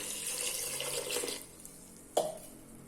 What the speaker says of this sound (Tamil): இதில் நான் ஒரு லிட்டர் தண்ணி ஊற்றிருக்கேன்